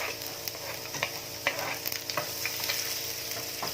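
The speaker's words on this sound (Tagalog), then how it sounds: "painitin muna natin yung cooking oil sa pan. Then, add tayo ng crushed garlic." Crushed garlic fries in hot cooking oil in a pan, a soft steady sizzle with scattered light clicks and stirring scrapes, fairly faint and close, with no talking.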